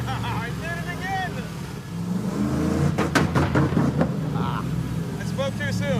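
Hemi-powered Gremlin race car engine revving hard and stuttering against the rev limiter, choppy bursts of loud exhaust with people talking over it.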